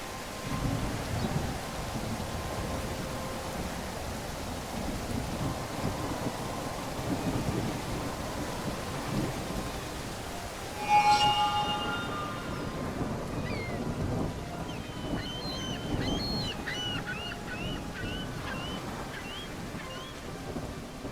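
Rain hisses steadily in the video game Genie while thunder rolls low and long, swelling to a louder crack about halfway through before settling back into the rainfall. Faint chirps are heard near the end.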